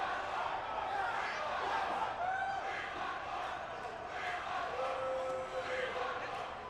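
Crowd noise in a WWE 2K18 wrestling arena, a steady dense roar of many voices with a few drawn-out jeering calls rising over it, moderately loud and continuous throughout.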